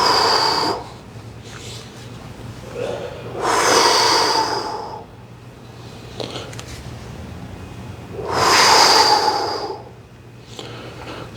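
Two slow, deep breaths during a guided stretching session, each a long airy inhale and exhale rising and fading, heard up close over a low steady room hum with no talking.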